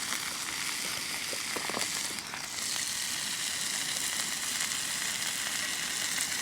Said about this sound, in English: The beef olives are cooking nicely.